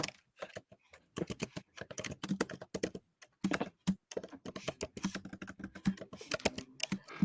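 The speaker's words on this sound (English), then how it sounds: "I can hear you typing super loud" Loud, close typing on a laptop keyboard, with rapid irregular bursts of sharp key clicks, short pauses, and heavier thumps that sound like the spacebar.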